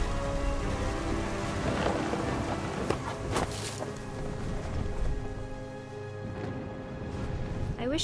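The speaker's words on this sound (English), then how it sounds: "The thunder sounded much too close and full of angry power." Thunder and rain from the video game What Remains of Edith Finch make a dense, loud wash of downpour with deep rumbling rolls throughout, and a sharper crack about midway.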